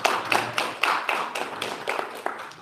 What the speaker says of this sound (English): I'm going to take another round of applause for this